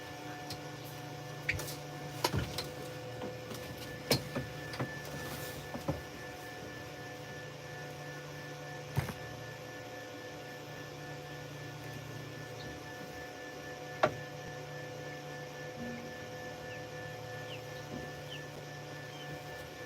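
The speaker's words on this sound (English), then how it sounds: "That's the inverter." Steady electrical hum from an inverter aboard a fishing boat on a catfishing trip at Santee, a low constant drone with faint tonal whine, broken by occasional soft ticks and knocks.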